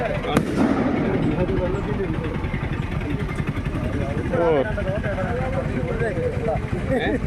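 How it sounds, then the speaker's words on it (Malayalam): A sharp firecracker bang pops early on, then steady crowd chatter and rumbling noise carry on throughout, near wild elephants by the Kallar river at Thannithode. "പടക്കം പൊടിച്ചിട്ട് പോലും അതിന് അനക്കമില്ലല്ലോ"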